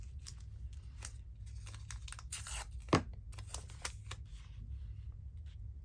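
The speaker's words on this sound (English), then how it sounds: "The other thing I could do is just put actually just a bit of washi tape there" Washi tape is torn off and pressed onto a paper journal pocket: faint, close ripping and crinkling in short bursts, with one sharper tear and soft handling noises in a quiet room.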